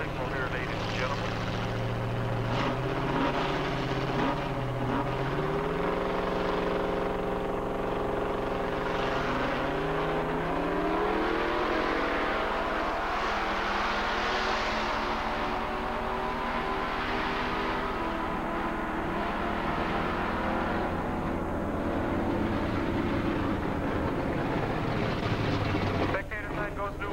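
Two drag racing cars launch side by side at Edinburg International Dragway in 1987, engines roaring loud and continuous with rising revs as they pull away, under a public-address announcer talking throughout.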